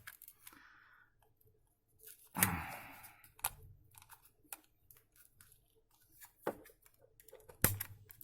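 Scissors snipping at a piece of hot glue during a DIY hot glue craft project, a few sharp separate cuts and clicks spread through a mostly quiet stretch.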